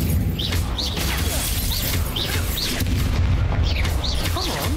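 Repeated booming spell blasts and crashes from the Hogwarts Legacy video game, the Confringo explosion spell among them, burst over a dense wall of fire and effects noise, with a player's voice calling out between the hits.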